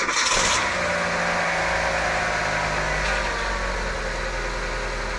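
Car engine starting and then idling steadily after a power steering leak repair, with a brief louder burst at the start, then a close, even idle hum.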